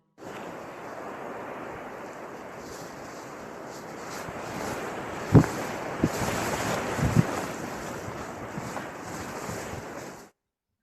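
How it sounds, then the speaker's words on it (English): Steady wind roars across the open water of Cow Green Reservoir in Upper Teesdale, with a few brief gusty bumps against the microphone midway. "Wind at Cow Green Reservoir."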